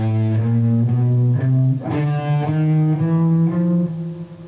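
An electric guitar, likely overdriven, picks a steady 16th-note figure in groups of four, with every fourth note struck harder as an accent, loud and alone with no talking.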